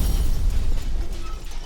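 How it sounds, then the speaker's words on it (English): A dense, rumbling explosion effect rolls continuously with heavy low-end boom and crackling noise, loud and sustained without a clear onset, no talking over it. "explosions. Explosions."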